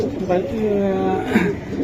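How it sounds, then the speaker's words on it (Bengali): Pigeons cooing at a pigeon market, a couple of soft close throaty coos over a busy background murmur. "এই যে আমি দেখাই এটা কি কবুতর"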